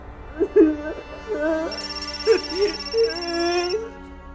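An electronic phone ringtone plays a looping melody with a sustained high tone, fairly loud and close, continuing for several seconds.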